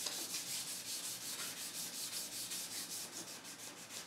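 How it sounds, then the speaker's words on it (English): Light, steady back-and-forth rubbing of 600 grit waterproof wet sandpaper over the old finish of a Singer sewing machine, a soft rhythmic swish repeating about twice a second, close and fairly quiet with no talking. "some wet sandpaper. This is called waterproof, and that'll keep it from plugging up. I'm just doing this lightly."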